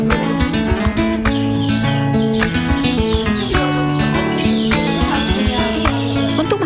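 Canaries in a breeding setup sing and chirp continuously, bright overlapping trills and tweets, loud and close, with no speech.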